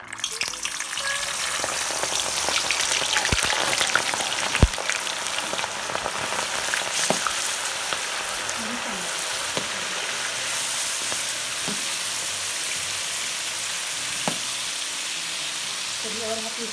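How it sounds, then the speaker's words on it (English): Chickpeas fry in a pot of hot oil with a loud, continuous close-up sizzle and crackle, scattered pops, and the occasional stirring clatter. "Oil's hot, we're gonna put the chickpeas in."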